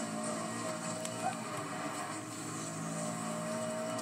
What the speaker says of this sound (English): Not sure how much horsepower this thing has, but it sounds exactly like the Bentley.